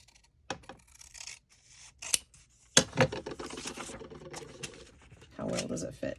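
Scissors snipping and trimming paper during a pocket-making craft, several sharp crisp cuts and rustling paper handling at close range, interspersed with soft rubbing and scraping.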